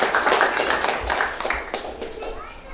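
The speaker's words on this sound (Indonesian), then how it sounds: "Tepuk tangan bagi Tuhan Yesus." Wedding guests clap their hands in a few scattered bursts beneath continuous nearby talk, with children's voices mixed into the busy celebration.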